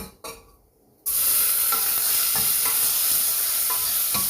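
Tomato and curry leaves sautéing in a pan, a brief quiet stir, then a sudden loud, close, continuous sizzle with light stirring scrapes.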